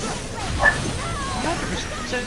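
A dog barks once in a video game, a short yip amid game noise and faint voice chatter.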